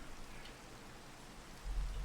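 Rain falls in a Minecraft ATM9 modpack world, a soft steady hiss of drops with a low rumble swelling near the end.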